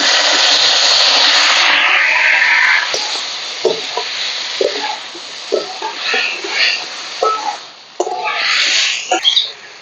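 Chopped tomatoes drop into hot mustard oil with dried chillies and five-spice in a wok, setting off a loud, steady sizzle. The sizzle eases after a few seconds, and intermittent stirring scrapes and clacks follow.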